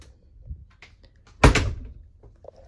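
A solid mirrored closet door in the bathroom of a 2018 Merhow 3-horse trailer (model 8311RWS) with real cinnamon wood interior, giving one loud close thunk as it shuts after faint earlier handling noises.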